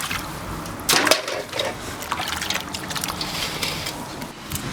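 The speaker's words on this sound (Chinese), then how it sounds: "这个先洗一下，泡一下水" Pork ribs are washed and soaked in water, with splashing, trickling and sloshing sounds nearby and a brief louder splash near the start.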